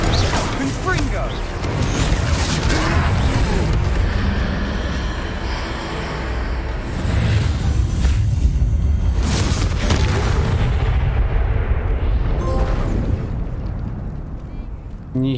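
A Confringo blasting spell explodes in Hogwarts Legacy during a troll fight, bringing heavy, rumbling booms and crashes that keep up loudly across the scene, with a voice speaking over parts of it.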